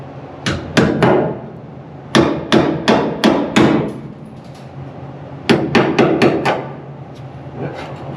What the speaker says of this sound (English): Let's tap it in.